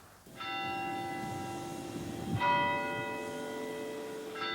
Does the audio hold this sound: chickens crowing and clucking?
no